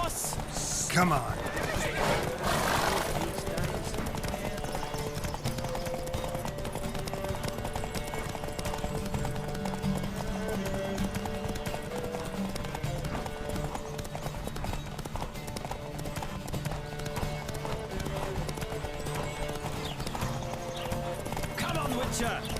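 Racing horses gallop in The Witcher 3, with rapid clip-clop hoofbeats and loud neighs and whinnies near the start, running steadily under shouting voices and game sound for the whole stretch.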